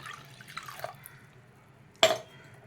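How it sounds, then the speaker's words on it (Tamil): Water pours into arrowroot flour batter in a short splashing burst, preceded by faint trickling and dripping, close and fairly quiet in a home kitchen; no talking. "இப்போ இன்னும் கொஞ்சம் தண்ணி விடுறோம்"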